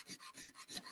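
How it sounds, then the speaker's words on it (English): Sandpaper rubs a wooden upright piano hammer shank flush on a workbench in four or five quick, faint back-and-forth strokes, with no talking. "use my sandpaper, put it on the bench, and we're gonna work on sanding this flush"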